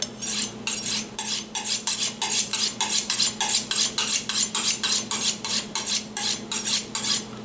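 A titanium knife is drawn repeatedly along a sharpening steel, making crisp, bright metallic scrapes in a brisk, regular rhythm of about two to three strokes a second, loud and close with no voices.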